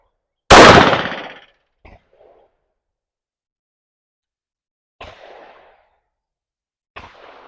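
A single loud, sharp gunshot from a Smith & Wesson M&P 5.7 pistol firing hot loads rings out close by, followed by quieter clanks and handling noises in near silence.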